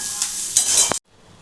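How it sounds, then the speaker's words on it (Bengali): A vegetarian stuffing for potoler dorma, stuffed pointed gourd, is stirred in a pan: a close, scraping, sizzling swish in a couple of strokes that stops abruptly, leaving near silence. "এখানে আমার কাজ হচ্ছে এই পুরটা এখন সুন্দর করে একটু নাড়াচাড়া করা"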